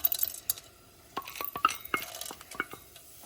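Chana dal tipped into hot oil in a stainless steel pan while making onion, tomato and dal chutney, giving scattered light clinks and small metallic taps in quick irregular bursts, close and fairly quiet.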